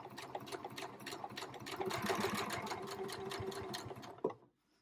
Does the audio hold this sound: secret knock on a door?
no